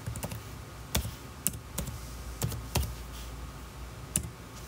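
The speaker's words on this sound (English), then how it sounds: "All right, so next thing I'm going to do is type in the new IP address." Scattered clicks from a computer keyboard as a new IP address is keyed in during a controller setup, a handful of separate, fairly quiet key taps spread over a few seconds with low background hum.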